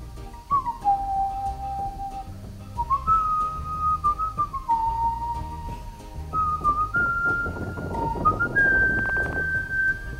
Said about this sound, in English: See, now this I can whistle.